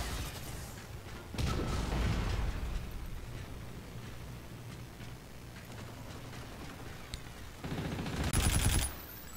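Gunfire in the video game Call of Duty: Infinite Warfare: two loud bursts of rapid automatic fire, one early and a shorter one near the end, separated by a stretch of quieter game ambience.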